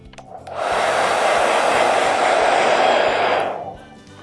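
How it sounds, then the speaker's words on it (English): A hairdryer blows steadily over taped-down watercolour paper, switching on loud and close at half a second, holding an even roar for about three seconds, then cutting off. "Right, here comes the hairdryer."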